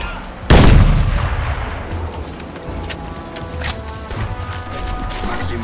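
A grenade blast in the video game Crysis: one sudden, loud, close explosion that booms and then rumbles away over several seconds, with game ambience continuing afterwards.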